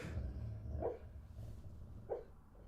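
A dog gives two short, muffled barks spaced about a second apart, heard indoors over a steady low background rumble, fairly faint and a little distant.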